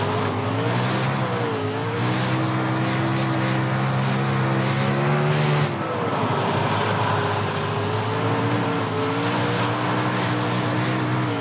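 Race car in the iRacing sim on a slick track, its engine droning and shifting pitch through corners, a near continuous loud whine with brief revving changes and faint tire scrub, no voices.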